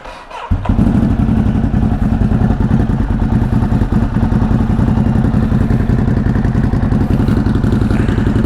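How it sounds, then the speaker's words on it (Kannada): A Ducati Hypermotard with an aftermarket exhaust, dB killer removed and untuned, fires up after a brief crank and settles into a loud, thumping, slightly uneven idle that continues close by. "ಡ್ಯೂಕಾಟಿ ರೇಸಿಂಗ್ ಟೂರಿಂಗ್ ಮಾಡಲ್ ಇದೆ ಇದ್ರ ಇವಾಗ ಆನ್ ಮಾಡೋಣ"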